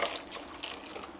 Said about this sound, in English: we pour this straight into the egg mix